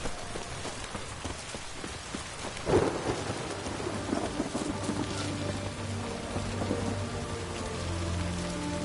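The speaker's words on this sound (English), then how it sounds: "The storm, damn it." Thunderstorm with rain in Witcher 3: steady heavy rainfall with a sharp thunder crack early on, followed by rolling rumbles under the downpour.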